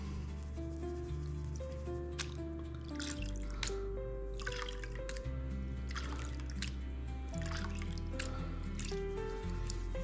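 Water swirling in a gold pan during Idaho gold prospecting, with soft dripping and sloshing of wet paydirt under a steady background hum, continuous and fairly quiet throughout.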